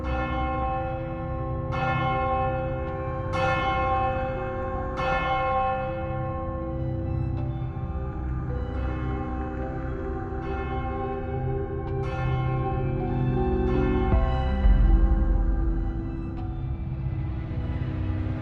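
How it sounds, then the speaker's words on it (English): Distant church bells toll in slow, evenly spaced strikes that ring out and overlap in a reverberant haze, continuing steadily with no voices. "Distant church bells toll."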